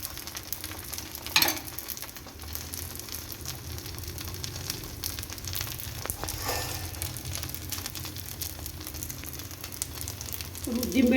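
Bread dosa frying in oil on a hot pan, a continuous soft sizzle and crackle at moderate level, with a few brief louder scrapes and bursts along the way.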